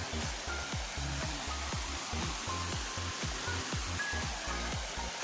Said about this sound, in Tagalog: Nandito kami sa Busay Falls.